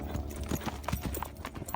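A ridden horse's hooves clip-clop in a steady rhythmic gait during a riding clinic. The footfalls are moderately close and continuous, with faint ambient noise underneath.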